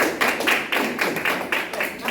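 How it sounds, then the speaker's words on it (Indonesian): A classroom of students claps together in a steady, even rhythm of repeated beats, close and fairly loud, with no speech over it. "ya tepuk tangan dulu"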